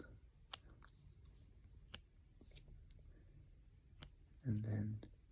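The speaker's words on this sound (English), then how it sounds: "Yeah, these little things. I'm just gonna cut them out." Small things are snipped out with scissors in a quiet room, a few sparse, crisp clicks spaced about a second apart, followed by a brief murmur of a voice.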